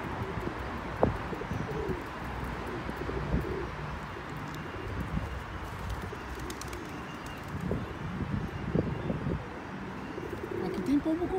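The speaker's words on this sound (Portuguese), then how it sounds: "Aqui tem pombo com força, hein?" Pigeons coo repeatedly in a park square, soft and steady cooing close by against a continuous outdoor murmur, with a few brighter bird chirps now and then.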